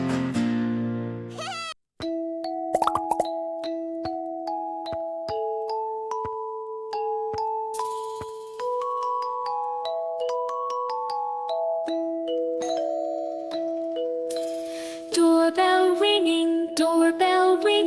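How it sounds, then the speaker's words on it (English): A doorbell rings a ding-dong chime in a children's nursery rhyme, clear bell-like tones stepping through a simple melody over light backing music, with no talking. "Doorbell ringing, ding dang dong."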